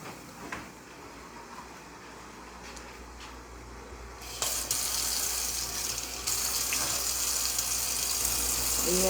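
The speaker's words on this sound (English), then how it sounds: "Let me go rinse this out" Something is rinsed under a running sink tap: a quiet room gives way midway to a sudden rush of water that swells louder a couple of seconds later and keeps pouring steadily.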